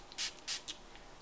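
Rose water balancing mist sprayed onto a face: three quick hissing spritzes in succession, close and crisp, the last one shorter, against a quiet room.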